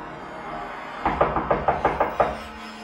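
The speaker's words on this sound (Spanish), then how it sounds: "Un golpe frenético en la puerta despertó a Marcos." Someone knocks frantically on a wooden door as a sound effect in a dramatized story: seven quick, evenly spaced, loud blows after a second of quiet room tone.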